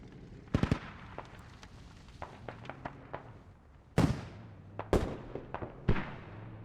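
Booming mortar and artillery fire in a video game infantry battle with insurgents using propane mortars, sharp blasts scattered irregularly, some in quick pairs, others spaced out, with smaller distant cracks between them.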